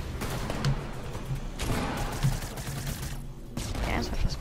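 Gunfire in the video game Fortnite comes as rapid bursts of repeated shots, moderately distant, with a faint voice in the background.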